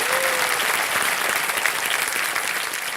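Audience applause welcoming a guest on stage, a dense, even wash of clapping from a sizable crowd, sustained and fairly loud throughout.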